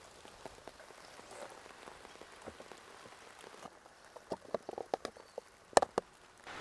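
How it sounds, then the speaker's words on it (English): Rain begins falling outdoors beside a beehive, scattered raindrops tapping a surface, sparse at first and then growing into louder, irregular close pattering. "And it just started raining, so I'm going to have to collect this jar and shut up this hive."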